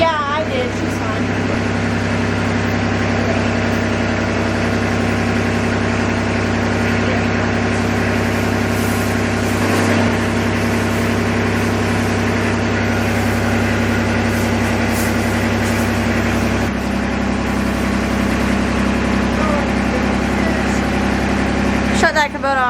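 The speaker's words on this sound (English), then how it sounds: "Shut that Kubota off real quick" A Kubota tractor engine idles steadily at a dairy barn during a snowstorm, a continuous low drone running throughout with people talking over it.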